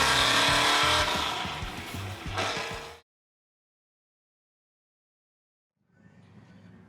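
A 632 SS big-block truck launches at a drag strip with a loud, harsh engine roar and tire noise for about three seconds. Abrupt silence follows, then faint rumbling returns.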